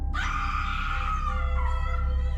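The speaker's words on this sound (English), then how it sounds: "A woman's scream." A woman screams at night in the deep Appalachian woods near a campsite: one long, high, sustained shriek that wavers and starts to fall toward the end, loud against a low rumbling background.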